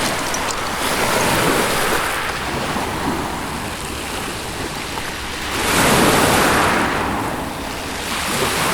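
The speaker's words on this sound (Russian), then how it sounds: "Сегодня волны приличные." Sea waves breaking on a shore, a loud continuous wash of surf that swells and recedes in broad surges, with wind buffeting the microphone.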